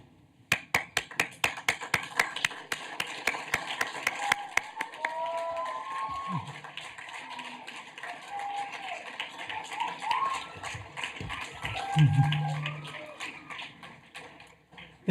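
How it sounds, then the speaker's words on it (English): Sharp claps ring out at first, then blend into a rising round of applause from a crowd acknowledging graduates at a commencement ceremony, with faint voices murmuring underneath. "let's acknowledge the graduates with an applause"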